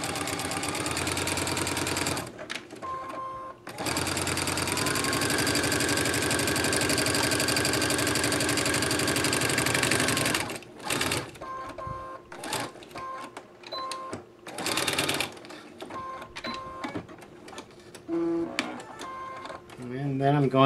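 Sewing machine stitching a floor mop shammy pad, running in long continuous bursts with rapid mechanical whirring, then breaking into short starts and stops as back stitches are made, close by with a voice talking in between.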